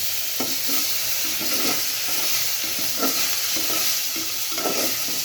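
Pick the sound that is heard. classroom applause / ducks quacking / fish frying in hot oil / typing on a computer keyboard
fish frying in hot oil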